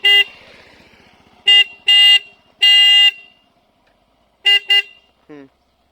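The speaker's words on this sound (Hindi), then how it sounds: "एक बार मैं आपको हॉर्न बजा के सुना देता हूँ।" A Pulsar NS400z motorcycle's single horn sounds close and loud in five short honks: one toot, a pair, one longer blast, then two quick beeps, with quiet between.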